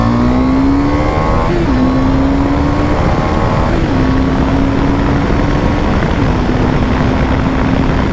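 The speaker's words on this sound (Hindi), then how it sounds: "अब फर्स्ट गियर से फिर से स्टार्ट करता हूँ भगाना," A 2024 KTM 390 Adventure motorcycle accelerates hard from first gear, its loud, close engine note rising in pitch and dropping briefly at each of three upshifts, with no speech.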